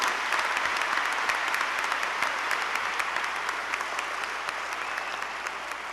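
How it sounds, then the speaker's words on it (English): A large audience at an honors convocation claps continuously in a thick, loud, even roar of applause that fades slightly toward the end. "One more hand of applause for all of these brilliant, brilliant students."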